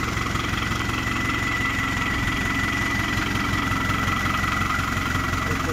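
A heavy modified Fiat tractor engine, on a tractor of about 35 quintals in Punjab, idles steadily and loudly, a deep continuous rumble with a rhythmic knocking beat throughout.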